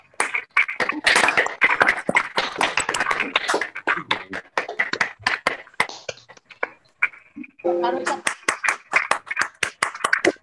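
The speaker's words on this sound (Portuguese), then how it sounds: "oferecermos uma salva de palmas para todos esses marinheiros aqui presentes" Sailors aboard the Brazilian navy ship Atlântico are applauded with rhythmic, individually distinct claps from a small gathering, fairly close, with a short lull midway before the clapping resumes, and a brief voice in between.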